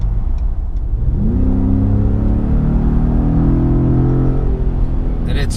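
A 2018 Ford Raptor truck drives along, its engine rising in a steady, loud rev over several seconds with continuous road rumble and no pauses.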